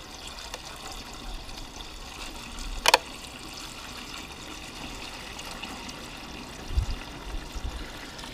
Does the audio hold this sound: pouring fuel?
yes